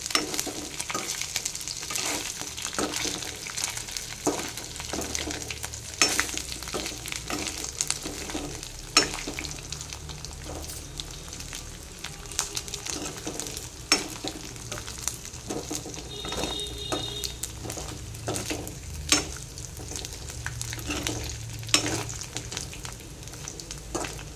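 Dried bommidi fish fry in a pan until browned, giving a continuous crackling sizzle with frequent sharp pops and light stirring clatter throughout.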